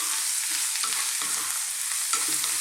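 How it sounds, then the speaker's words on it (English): Mushrooms and potatoes stir-fried in a pan over high heat for an Indian potato mushroom fry, giving a steady close sizzle with intermittent scraping and tossing sounds and no talking. "stir frying this in the pan for about another 3 to 4 minutes"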